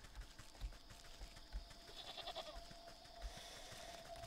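A goat bleats in the Wytchwood video game, a faint wavering call near the middle over quiet background sounds and soft thumps.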